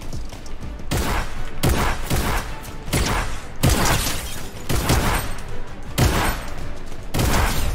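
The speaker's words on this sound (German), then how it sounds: "Oh mein Gott, hier schießt mich jemand gerade voll ab." Gunfire in a multiplayer video game, including shotgun blasts, loud and continuous with repeated heavy bursts and rapid volleys across the whole stretch.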